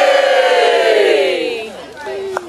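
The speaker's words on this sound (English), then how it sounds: "After three, let's give a really big cheer." A crowd gives a big cheer at the Peak District Highland Games, a loud, sustained outdoor roar of many voices that swells at first and then fades out, with a brief sharp shout near the end.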